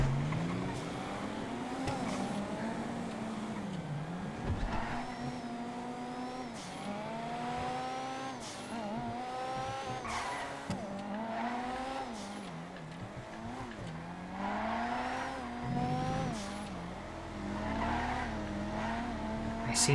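Drift car skidding and revving in GTA FiveM racing, repeated tire squeals and engine sweeps rising and falling through sliding turns, loud and close, with faint talk now and then.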